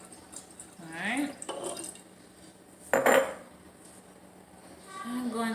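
Kombucha tea being stirred with a plastic utensil in a container, a few close clinks and scrapes with light liquid sloshing in two short bursts, otherwise quiet.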